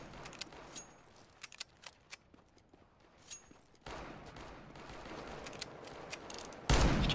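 R8 Revolver gunfire in the video game CS:GO during a deathmatch, a faint series of sharp, separate shots that thickens into a denser wash of noise and ends in a louder burst.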